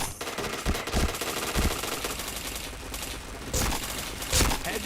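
Gunfire in a shooting video game, with dense overlapping shots and sharp individual bangs over a constant loud game soundscape, several heavier reports standing out near the end.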